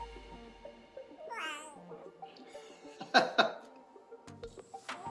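A pet cat meows several times in a home workshop during an arcade cabinet restoration. There is one rising, wavering call, then a pair of sharper, louder cries and a last shorter meow, all close by with no talk.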